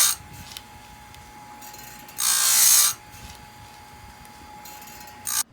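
Stihl USG grinder sharpening a chainsaw chain: a steady high whir, then a louder grinding burst of under a second as the wheel cuts a tooth, and a brief final touch near the end.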